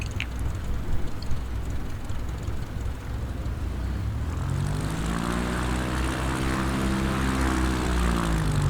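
Bush plane taxiing on the ground in Microsoft Flight Simulator 2020, a loud steady propeller engine drone that rises into a throbbing, higher-pitched whir partway through, close and continuous with no speech.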